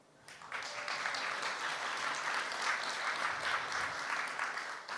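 A crowd breaks into sustained applause, steady dense clapping that starts abruptly and holds for several seconds.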